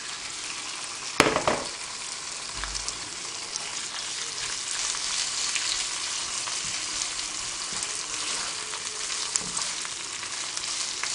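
Beef liver frying in a hot pan gives a steady, close sizzle with broadband crackle throughout, a sharp clack near the start and occasional small pops.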